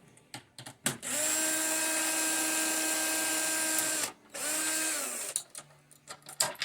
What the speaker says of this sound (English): I'm going to use my little drill bit. Makes it a lot faster.